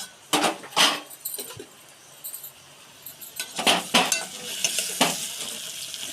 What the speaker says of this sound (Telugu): బంగాళదుంపలు అయితే మగ్గాలండి మగ్గితేనే బాగుంటుంది కూర